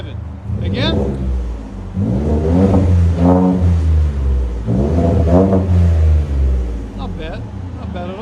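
Loud, close revving from a 2019 Ford F-150 XLT EcoBoost fitted with Vibrant and Magnaflow exhaust, with two main rising pulls over a low rumble and faint speech in between.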